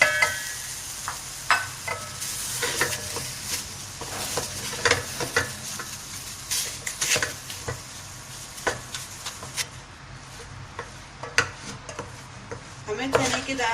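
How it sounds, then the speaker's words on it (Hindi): Ground chana dal being roasted and stirred in a pot, a steady soft sizzle with frequent scraping spoon strokes and light clinks against the metal throughout. "हमें चने की दाल को अच्छे से भूनना है पतीली में डालकर।"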